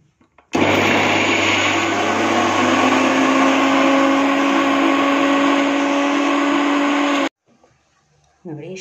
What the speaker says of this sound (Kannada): ಸ್ವಲ್ಪ ನೀರು ಹಾಕಿ ತರಿ ತರಿಯಾಗಿ ರುಬ್ಬಿಕೊಳ್ಳೋಣ.